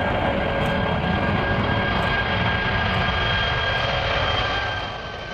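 Airbus A340-600 airliner engines give a steady, loud jet roar with a high whine, continuous and heard from outside, fading slightly at the end.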